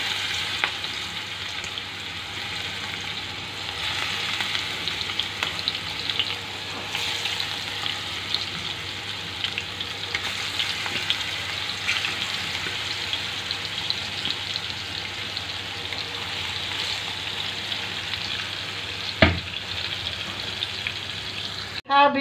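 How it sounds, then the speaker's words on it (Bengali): Fish frying in hot oil, a steady dense sizzle and hiss that holds evenly throughout with occasional faint clicks, close and continuous with no talking. "তেল গরম হয়েছে, মাছ দিয়ে দিচ্ছি।"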